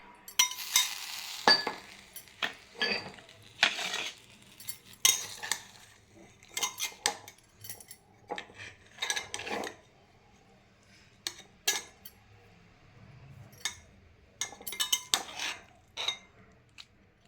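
A metal spoon scrapes and clinks against a pan and plate while spicy Khandeshi thecha, a coarse green chilli relish, is served out, giving a series of sharp close scrapes and taps with short pauses between them.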